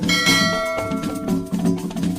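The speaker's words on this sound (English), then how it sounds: "click on the notification bell for more videos coming your way" A notification bell sound effect: bright, ringing bell chimes struck several times in quick succession, each tone sustaining and overlapping the next, loud and close.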